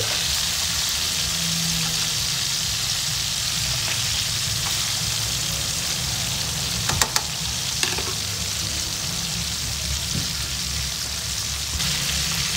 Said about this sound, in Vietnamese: mình chiên cá như vậy nó không có bị ờ, dính cá ha